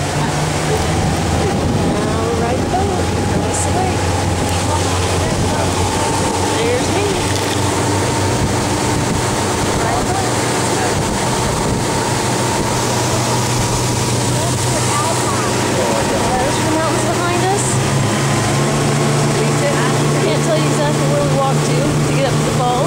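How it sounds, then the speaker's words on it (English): A small boat approaches across a lake, its motor a steady droning hum under constant wind and water noise for the whole stretch. "There's the little boat coming in so I can get on it and go back to the other side."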